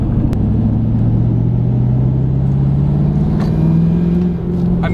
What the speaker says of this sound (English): You can hear the turbo when it starts spooling.